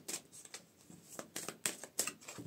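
Tarot cards shuffled before a draw, with a quiet close series of irregular papery flicks and slaps, no talking.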